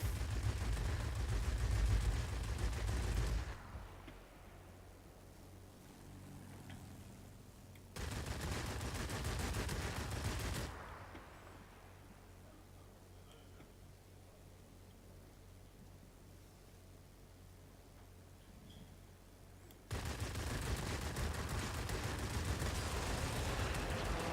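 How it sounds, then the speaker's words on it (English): Machine gun fire from a fighter plane in the World of Warplanes air combat game, with a Me 209 and an Me 262 involved, coming as loud sustained rattling bursts, two long ones and a shorter one, separated by quieter stretches of engine drone. "I'll put some shots into him anyway, just to make myself feel better."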